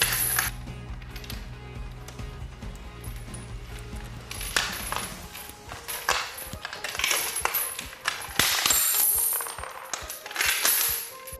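A good-quality toughened bicycle security chain is cut up close, making continuous harsh metallic grinding with scattered clinks and ratcheting clatter for about eleven seconds.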